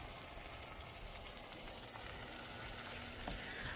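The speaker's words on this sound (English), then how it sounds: "I'm just gonna let these simmer cook before I start to mash them." Leftover beans, still partly frozen, simmer in a pan over high heat, giving a steady, soft crackling sizzle with scattered tiny pops throughout, close and even in level, with no talking.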